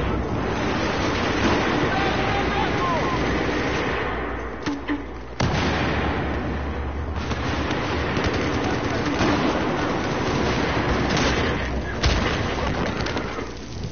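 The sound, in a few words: gunfire in video game Battlefield 4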